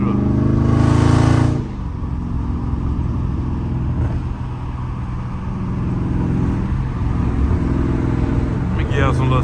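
A loud Dodge Charger Scat Pack rumbles and revs while driving, its deep engine drone steady throughout with a brief louder surge at the start and a slight rise near the end, heard from inside the car.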